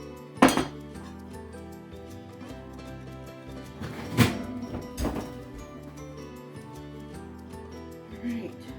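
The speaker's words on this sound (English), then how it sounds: "I'm gonna pull out my Dutch oven and see what they look like. I'm gonna poke them with a fork" A Dutch oven with a pot roast is pulled out and the carrots inside are poked with a fork, making close metallic clanks and clinks: one sharp hit early, two louder knocks midway, then soft scraping and a light tap.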